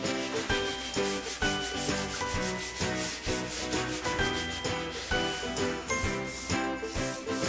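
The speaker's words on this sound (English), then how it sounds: "I sand all of the 45-degree edges by hand, take off the wire edge by hand as well." Wooden cutting board edges sanded by hand at 120 to 180 grit, a close, steady, rhythmic rasping of paper rubbing back and forth across the wood throughout, with no talking.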